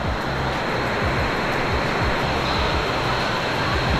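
Heavy rain pours down in a steady, dense broadband hiss with no pauses, loud and close, on an outdoor day at an elimination-final football game between the Buffs and the Tigers.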